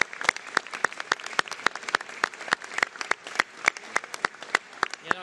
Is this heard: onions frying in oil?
no